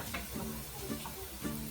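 Garlic sizzling in a hot pan while cooking chicken wings, a steady close frying hiss with a few soft stirring scrapes, and no talking.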